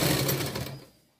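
A sewing machine stitches the top seam of a lined princess-cut blouse in one short, fast whirring run that quickly winds down to silence.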